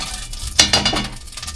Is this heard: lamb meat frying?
yes